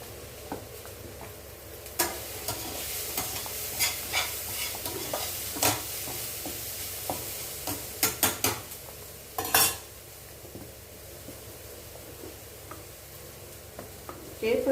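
A spoon scrapes and clicks against a pot as thick millet porridge is stirred, over a steady soft bubbling and hiss.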